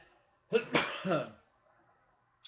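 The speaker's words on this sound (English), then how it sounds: "Matter of fact, I'm coughing now." A short, rough cough in two or three quick bursts, close and fairly loud, followed by quiet.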